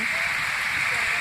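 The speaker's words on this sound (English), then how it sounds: "it's still raining, settling down" Steady rain falling during a thunderstorm, a continuous broadband hiss heard close and fairly loud throughout, with no distinct thunder rumble standing out.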